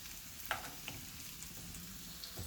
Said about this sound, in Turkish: Bakın şimdi güzelce kavurdum patatesimi.